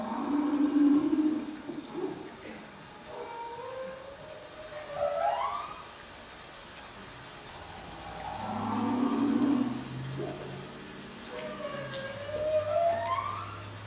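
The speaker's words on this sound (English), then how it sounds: "I've got some recordings of humpbacks. These were made in Puget Sound." Recorded humpback whale song from Puget Sound: long, low moaning calls that rise and fall in pitch, repeating in slow sweeping phrases over a steady background hiss.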